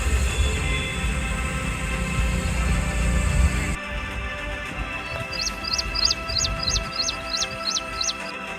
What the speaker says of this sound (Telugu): ఈ సెంచరీలో అయితే ఒక రేంజ్లో ఉంటాయి అన్నమాట పక్షులు. సౌండ్స్ అయితే మీరు వినొచ్చు.